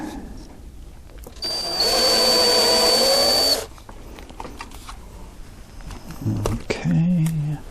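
A drill bit bores into a Freewing FA-18 EDF model jet with a loud, steady whine lasting about two seconds, followed by quieter handling noises and a brief mechanical buzz.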